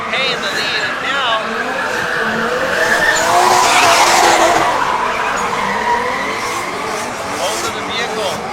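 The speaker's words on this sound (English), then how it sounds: "both of the vehicles drifting to the track" Drift cars skid around a track at a drift series event in the Philippines, a continuous loud wash of squealing tires and engine roar that swells in the middle, with a commentator talking over it.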